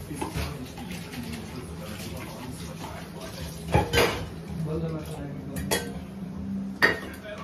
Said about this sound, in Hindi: अब बर्तन धोने पड़ेंगे